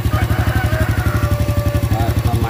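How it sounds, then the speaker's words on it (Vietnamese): A Thai Honda Dream motorcycle engine, freshly assembled, idles with a loud, even rapid chugging pulse close by, with a voice speaking over it. "Sau đây tôi sẽ tiến hành nổ máy lên để tôi kiểm tra xem là máy đã êm chưa"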